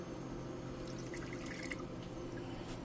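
Water is poured steadily into a cooking pan holding a fresh young Foster Farms turkey, a continuous close splashing and trickling with no talk.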